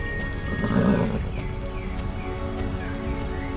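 Horse in Star Stable, a clear whinny near the start followed by steady clip-clopping hooves and faint chirping birds in the background.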